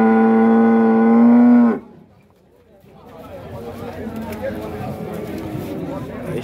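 A dairy cow at a cattle fair gives one long, loud, close moo that cuts off abruptly, followed by a busy outdoor background of crowd chatter and someone talking.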